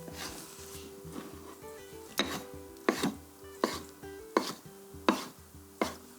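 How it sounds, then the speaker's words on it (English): A knife dices cold smoked salmon into one-centimetre cubes on a board, giving about seven crisp, evenly spaced chops after softer cutting strokes, close and clear over quiet background music. "I just want to sort of dice this into 1 centimetre dice."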